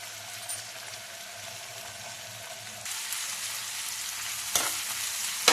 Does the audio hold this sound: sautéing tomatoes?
yes